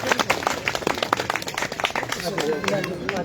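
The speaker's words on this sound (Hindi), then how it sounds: "जोरदार तालियों से सभी" Applause at Sanjeev Beniwal's thanksgiving meeting in Barwali: a crowd claps steadily in a dense, lively patter of close and distant hands, with a murmur of voices beneath it.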